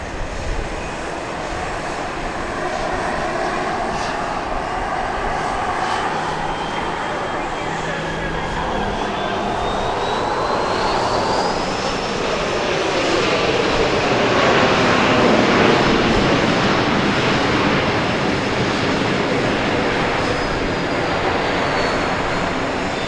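Boeing 737-700 jet arriving at Dallas Love Field, its engine roar building steadily and swelling loud near the middle before easing slightly, with a talking voice faintly underneath.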